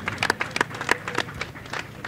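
Scattered, sparse handclaps from a small crowd at a BJP political gathering in Vikaspuri, welcoming a new party official with a few irregular, moderately close claps.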